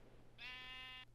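A single sustained sheep bleat from Minecraft, clear and fairly close, with a steady low hum underneath and no talking.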